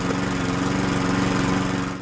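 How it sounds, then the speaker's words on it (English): A lawn mower's small engine in an animated short drones steadily and close, with a chugging rumble that sags and fades in the last moments as it dies. "So Billy's out there trying to get his lawnmower started."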